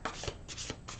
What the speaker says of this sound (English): So I'm going to shuffle them just a little bit.